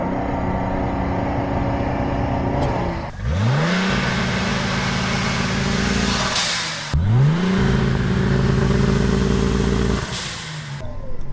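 A Mercedes 190E W201 with a turbocharged M103 engine revs while standing still with launch control, two loud rises in pitch that each hold at high revs before dropping off, heard close and without speech.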